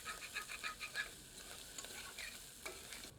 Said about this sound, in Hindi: गर्म तेल में घिसा हुआ अदरक और लहसुन सम्मिलित करते हैं।